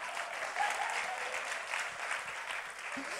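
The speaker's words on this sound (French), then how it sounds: "est-ce qu'on peut applaudir nos jeunes femmes dans ce lieu?" Warm applause from a church congregation for young women in attendance, continuous clapping at a moderate level across the short stretch, with no speech on top.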